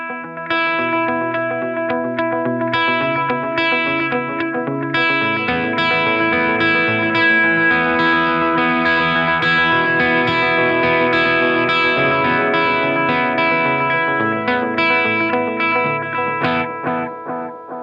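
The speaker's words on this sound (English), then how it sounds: "And then there's the dotted eighth setting, which gives you that kind of spacey feeling" Electric guitar played through a Holy Era tap tempo delay pedal on its dotted-eighth setting, with spacey rhythmic repeats that cascade behind each note in a steady, loud passage of about eighteen seconds, no talking.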